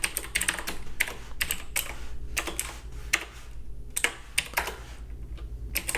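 Rapid, steady keystrokes on a computer keyboard while code is typed, close and clear, in uneven bursts with short pauses and no talking.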